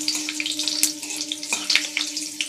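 Panch phoron spices frying in hot oil, a bright crackling sizzle with scattered pops and a sharp knock or two, close and fairly loud over a faint steady hum.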